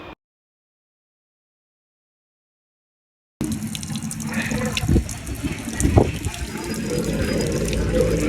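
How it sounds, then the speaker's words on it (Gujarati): Water gushes continuously from a tap left running in a general coach of an intercity express train, a loud steady splashing stream that begins after a silent gap, mixed with coach and train noise. "પાણીની ચકડું ચાલુ મૂકીને જતું રહ્યું છે. હવે બંધ થતી નથી."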